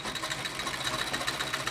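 An 1887 Singer sewing machine stitching fabric after a thread tension adjustment, with a steady, fast mechanical whir and rapid rhythmic clatter running continuously at moderate volume, close by and without talk.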